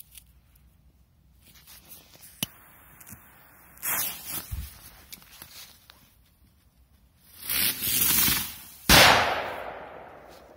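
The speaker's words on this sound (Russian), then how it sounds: "Давайте бросим туда блица маленького от Максим." A small Maxim Blitz firecracker goes off outdoors with a sharp, loud bang near the end, following a few softer rustles and pops in a quiet setting.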